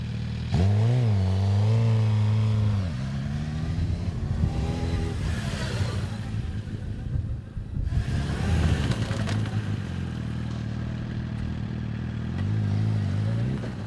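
A motorcycle accelerates up a hill on a test circuit, its engine rising and falling in pitch through gear changes, a loud, continuous, close mechanical drone that holds throughout.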